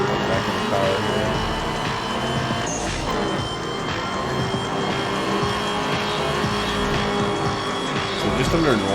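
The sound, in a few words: car driving in Night Runners video game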